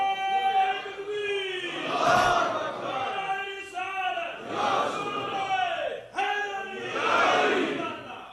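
A large conference crowd bellows a religious slogan in unison, loud rhythmic chant phrases rising and falling in about three surging waves, each swelling then breaking off briefly before the next.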